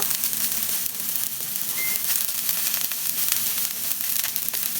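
Garlic and onion fry in a hot pan, giving a steady, loud, close crackling sizzle that runs without a break.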